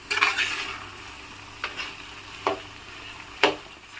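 Potato french fries frying in hot oil until brown, a steady close sizzle broken by a few sharp scraping knocks from stirring.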